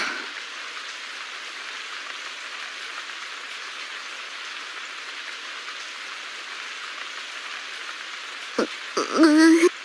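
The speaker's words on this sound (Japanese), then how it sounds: "あとは雨が上がるのを待つだけかな" Steady rain falling in a video game scene, an even, dense patter of drops throughout, with a brief game sound effect near the end.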